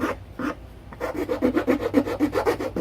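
A hand file rasps across the rough edges of a wooden LED lantern, close by. Two short scrapes come first, then a quick steady run of back-and-forth strokes.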